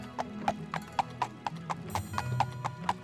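Horse hooves clip-clop at a steady, even trot in an Elder Scrolls video game, a dozen crisp close hoofbeats over a low ambient game hum, with no talking.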